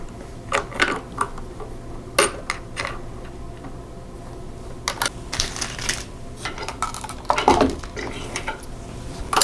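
A presser foot is swapped for a quarter-inch foot on a sewing machine. Small metal clicks and light clattering come in irregular bursts, close and fairly loud, with quieter handling noise between them.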